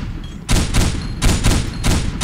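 Heavy gunfire from a World War II video game weapon firing single shots, in a few loud, rapid bursts, each lasting about half a second, with short gaps between them, close and booming.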